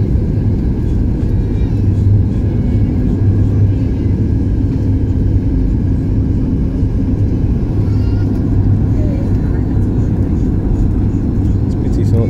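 Steady, loud airplane cabin rumble and engine drone during the descent into Edinburgh airport on a flight from Barcelona, continuous and unchanging throughout.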